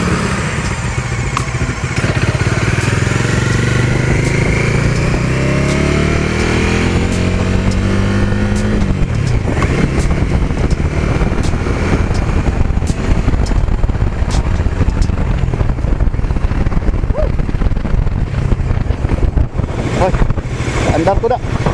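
A Kawasaki Bajaj Dominar 400 UG2 motorcycle is being ridden, its engine droning and rising in pitch through the gears under heavy wind buffeting, with a rider talking intermittently.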